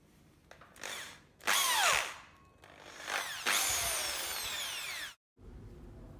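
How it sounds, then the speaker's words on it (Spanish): Power drill boring a hole through wood for an indoor split air conditioner unit, loud whining bursts with rising and falling pitch as the bit bites, several separate runs, then a brief stop and quieter background. "Ahora estamos haciendo un agujero para la instalación de una unidad interior en madera."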